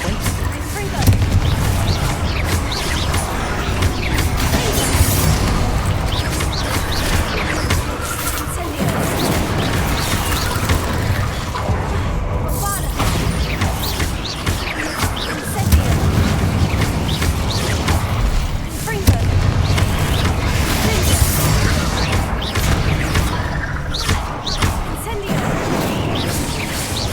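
Loud, dense blasts from Confringo fire spells erupting during a Hogwarts Legacy battle, with repeated booms and crashing debris rolling continuously over a rumbling game score, and voices occasionally speaking through the chaos.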